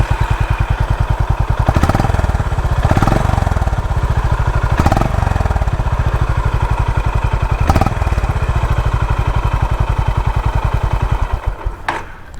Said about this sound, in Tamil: ஸோ இந்த வண்டி ஸ்டார்ட் பண்ணி இந்த வண்டி சவுண்ட் எப்படி இருக்குது அப்படின்னு சொல்லி கேட்டுருவோம்.